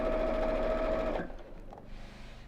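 A sewing machine runs fast and steadily while stitching fabric edges from the inside, a close, whirring motor drone that stops abruptly midway, followed by faint handling noises.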